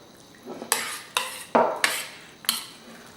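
Hot sesame oil stirred into kung pao chicken in a pan: five distinct metallic scrapes and clinks of a utensil against the pan, spaced about half a second apart, with faint sizzling underneath.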